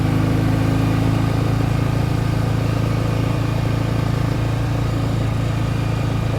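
A 1967 BSA Spitfire Mk III twin motorcycle engine runs loud and close during a fast test ride, a steady droning rumble that holds unbroken throughout with no talking.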